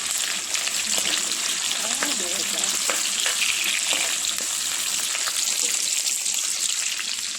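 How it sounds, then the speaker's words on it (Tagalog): Onions fry outdoors in a pan for a home-cooked dish, a steady close hiss and crackle filling the clip, with occasional scraping stirs and faint talking underneath. "Luto tayo na sibuyas."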